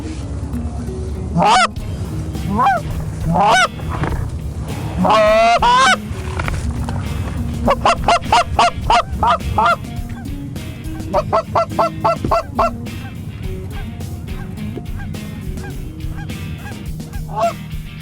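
Geese honk loudly and repeatedly, in scattered bursts and then quick rhythmic series, close by over a constant low background rumble during a Colorado waterfowl hunt.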